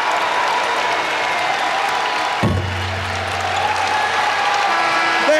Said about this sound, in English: the crowd now can rise as one and salute the Richmond Spiders on this victory tonight